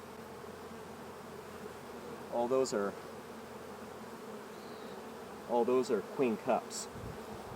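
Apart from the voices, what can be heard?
honey bees buzzing in a new nuc hive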